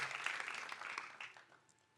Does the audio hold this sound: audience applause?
yes